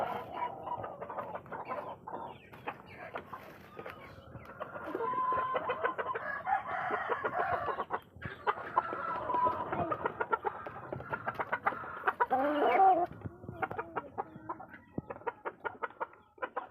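Pet chickens clucking and a rooster crowing at feeding time, with busy overlapping clucks and calls close by that swell midway and then ease off, no talking.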